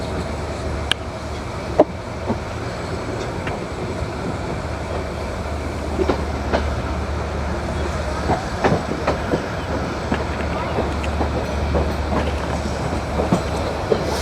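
Locomotives at the Ishwardi loco shed in Bangladesh give a steady low rumble and rail noise, with scattered metallic clicks and clacks over about fourteen seconds and no talk.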